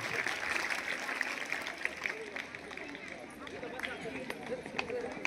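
An audience at an Independence Day celebration in Kalamb claps loudly and steadily, a dense wash of hand claps that holds throughout with crowd noise mixed in.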